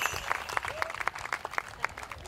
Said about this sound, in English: how about a big round of applause for our veterans as they exit the arena?